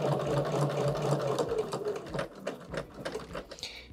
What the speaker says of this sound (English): As long as there's a diagonal line for me to sew, I keep pivoting and keep going.